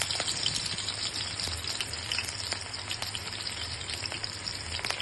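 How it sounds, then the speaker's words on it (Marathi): Garlic sizzles and fries in hot oil in a pan while making dry tendli (ivy gourd), a steady close crackling hiss with small pops running throughout, no voices. "त्यामध्ये मी लसूण घालत आहे।"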